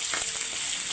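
Fish heads sizzle in hot oil in a pan, browned on both sides for a moong dal, giving a steady close frying hiss with no talk.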